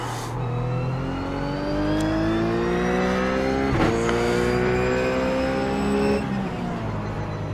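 A Ruf GT3 race car in iRacing at Zandvoort, its engine droning steadily and loudly, shifting pitch as it eases back onto the throttle, with a brief burst midway before the note falls away near the end.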